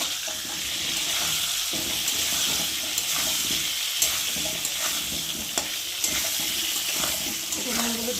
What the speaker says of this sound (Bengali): একটু নুন দেবো অল্প করে আর একটু অল্প করে হলুদ দেবো দিয়ে আলুটা ভালো করে ভেজে নেব